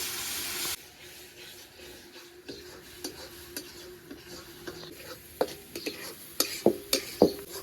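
Masala spices with salt, turmeric, red chilli powder and tomato paste stirred in a pan for chana masala, quiet scraping and rubbing that grows into sharper spoon-against-pan clinks toward the end, with no talking.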